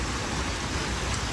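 Rain pours down steadily as a dense, loud wash of noise, with water running strongly close by and no talking.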